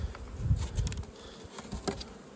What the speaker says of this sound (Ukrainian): Дивіться, скільки тут уже бджоли висить просто.